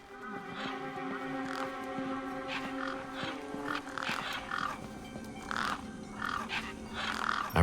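In the video game Beyond a Steel Sky, crows caw around a truck, harsh repeated calls rising over a droning, fairly quiet ambient background.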